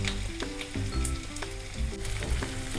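Onions added to garlic and ginger already browning in a pan sizzle loudly and steadily over medium heat, with repeated scraping stirs and crackles near the mic; no voices.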